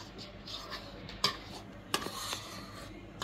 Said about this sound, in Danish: Men vi rører lidt mere rundt i det.